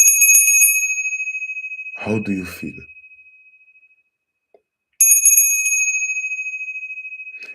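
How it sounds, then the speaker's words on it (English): Bell rung for sound therapy: two bright metallic strikes, each ringing out and slowly fading, with a voice speaking briefly between them. "When I ring the bell,"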